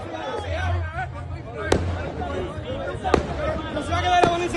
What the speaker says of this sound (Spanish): que mandé tirar esos fuegos artificiales